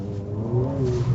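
A Ferrari F430 engine runs on the wet Fiorano circuit in Sport mode, a loud, close, steady engine tone with a rising pitch as it builds revs, with no voices.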